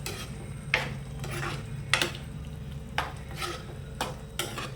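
Meal maker (soy chunks) and tomato curry being stirred in a pan, a spoon scraping through the thick mixture in repeated strokes roughly once a second, close and moderately loud over a low steady background hum, with no talking.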